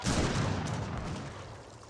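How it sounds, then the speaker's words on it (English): Falconet cannons fire from a back line in an Age of Empires 3 battle, a dense rumbling burst of booming gunfire that fades gradually, with no voices. "Falconets firing away in the back line."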